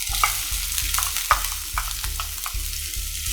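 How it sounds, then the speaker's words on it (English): Garlic and onions sauté in olive oil in a preheated pan, a steady close sizzle broken by a regular rhythm of stirring scrapes and taps. "we'll saute the garlic and onions until the onions soften and turn lightly golden brown in color"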